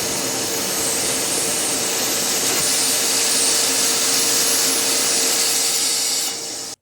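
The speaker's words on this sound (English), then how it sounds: "vacuum out any loose particles" A small vacuum pulls loose glass particles out of a chipped car windshield, a steady, loud, broadband whoosh with a faint whine that holds for several seconds and then cuts off abruptly.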